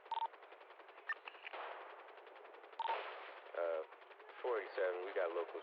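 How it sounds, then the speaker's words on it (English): Bursts of automatic gunfire rattle in a GTA V roleplay shootout with locals near Vespucci and Alta, heard as rapid repeated shots through a thin radio-like channel, broken up by voices talking over it. "we got locals shooting at us at Vespucci and Alta."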